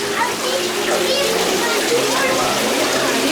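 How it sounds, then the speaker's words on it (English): Water rushes and splashes steadily from a waterfall in a theme park mine cave, echoing, with faint voices and music murmuring underneath. "very pretty cave in here with a waterfall and everything."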